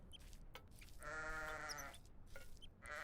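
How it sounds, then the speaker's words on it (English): Sheep bleating in the video game Baby Steps: a sustained, harmonically rich baa lasting about a second, fairly close and loud over a steady game ambience, with a few faint shorter sounds before and after. "Random sheep."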